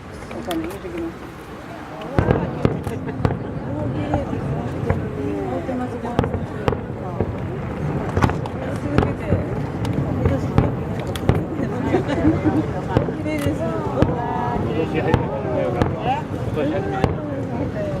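Fireworks at the 2013 Nabari summer festival in Japan pop and crackle repeatedly from a distance, with sharp bangs scattered throughout under a steady crowd murmur and nearby people chatting.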